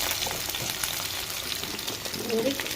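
Thinly chopped potatoes fry in a pan with curry leaves and turmeric, giving a steady, close hiss and crackle of oil throughout, with someone speaking over it.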